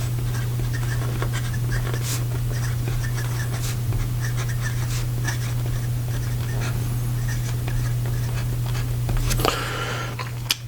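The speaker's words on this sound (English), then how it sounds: "So here we go with the rest of the writing sample." Visconti Medici fountain pen with a 23 karat palladium nib writing in Irish green ink on paper, a steady close scratching of nib strokes over a constant low background hum, with a brief louder rustle near the end.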